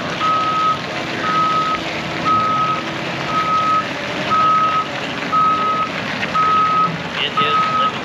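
Heavy truck backing up at a Caterpillar demonstration site, its reverse alarm beeping in a steady evenly spaced series of eight tones over a continuous engine rumble.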